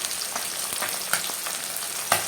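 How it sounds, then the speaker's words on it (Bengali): Pabda fish frying in a pan of hot oil: a continuous sizzle punctuated by sharp pops and crackles as the fish spatters, heard close up with no talking. "পাবদা মাছ ভীষণ ফাটে, পটপট করে ফাটতেই থাকে পাবদা মাছ।"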